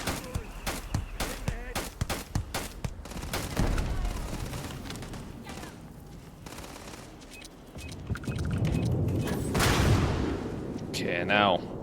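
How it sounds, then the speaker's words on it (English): Sharp gunfire bursts in a video game, including what fits a sniper rifle: a rapid run of loud cracks early on, then scattered heavier shots and booms later, with game noise and talk underneath. "that sounds like somebody's got a sniper rifle"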